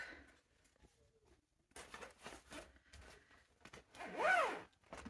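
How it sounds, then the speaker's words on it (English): A zipper is pulled in a quick rasping burst near the end, preceded by soft handling rustles and small clicks close by. "Zipper, sorry."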